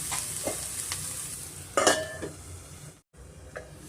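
Onions, ginger and garlic sizzle steadily in hot oil for a curry leaves chicken pepper fry, with a sharp spoon scrape and clink near the middle and a brief drop to silence near the end; no talking.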